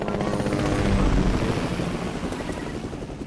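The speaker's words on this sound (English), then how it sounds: "Don't get seen by the helicopter." A helicopter in a video game thrums overhead with a steady rotor chop, fairly loud and continuous, slowly easing off toward the end.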